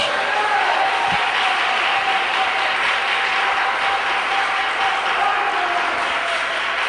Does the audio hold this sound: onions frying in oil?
no